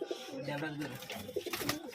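Rampuri pigeons held up for show in a pigeon collection give low, soft coos close by, mixed with quiet human speech during a short moment.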